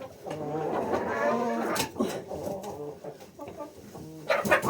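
Several chickens cluck and murmur close by in overlapping, uneven calls, with a louder squawk near the end.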